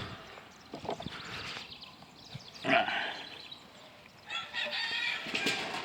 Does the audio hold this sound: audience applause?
no